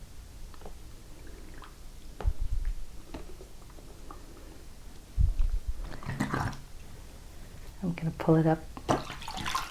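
A felted wool piece is pushed under and soaked in soapy water, making soft intermittent squishing, sloshing and dripping sounds close by, mostly under a person talking.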